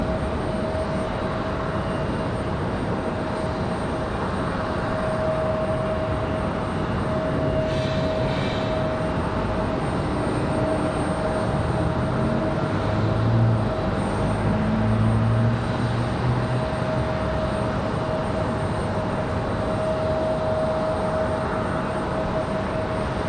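Sun Country airliner passing at Raleigh-Durham airport, a continuous loud jet engine roar with a thin steady whine riding over it, building slightly toward the middle, no voices present.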